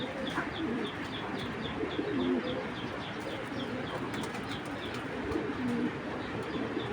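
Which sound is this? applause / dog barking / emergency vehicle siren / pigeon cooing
pigeon cooing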